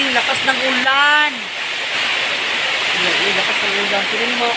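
Heavy rain pours down in a loud, continuous wash during a windy storm, with a person speaking over it near the start and again briefly toward the end.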